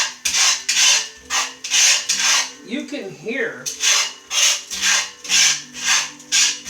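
A utensil wipes and stirs around a non-stick pan, giving a rhythmic series of close scraping rubs with a brief voice murmuring in the middle.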